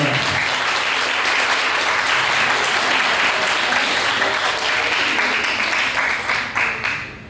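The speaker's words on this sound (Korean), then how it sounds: "뜨거운 박수 다시 한 번 보내주세요" Guests in a Korean wedding hall give warm applause as the bride and groom exchange rings, loud continuous clapping from a crowd that tapers off at the very end.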